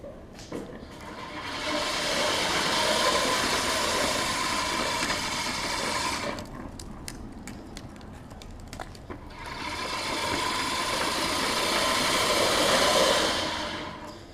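A Hyper Tough push reel mower's spinning blades make a fast, even whir as it is pushed along, in two long stretches split by a short quieter pause with some clicking.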